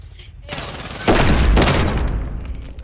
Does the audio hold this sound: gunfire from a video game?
yes